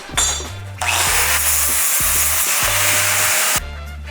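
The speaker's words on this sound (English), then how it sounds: "Now we can go drill those holes." A power drill bores holes into a metal bar in a shop, a loud steady high whine that starts after a short burst and runs for about two and a half seconds before stopping.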